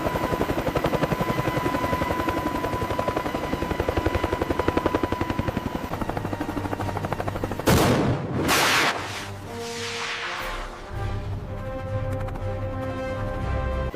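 An AH-1Z Viper attack helicopter's rotor chops steadily and loudly, followed by sharp bursts like weapon fire and a whooshing AGM-114 missile launch, then continued engine rumble.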